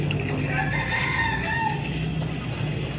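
A rooster crows once nearby, a drawn-out cock-a-doodle-doo over a low background hum, with faint clucking from other chickens.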